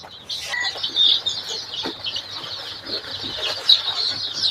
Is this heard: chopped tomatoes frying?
no